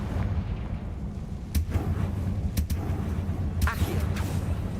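A Confringo blasting spell explodes in the video game Hogwarts Legacy, with a few sharp booming bursts over a constant low rumble of game ambience and no voices.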